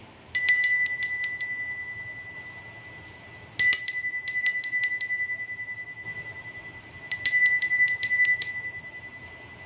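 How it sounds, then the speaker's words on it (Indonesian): A bright metallic bell rings in three separate bursts, each a quick cluster of tinkling strikes that fades before the next one. "ditandai dengan lonceng berbunyi"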